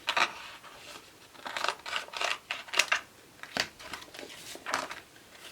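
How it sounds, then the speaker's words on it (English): Scissors snip through excess vinyl or fabric while trimming a Cricut-cut design for a DIY backpack, a series of short, close, crisp cuts with rustling in between and no talking. "So first I'm just going to cut away most of the excess."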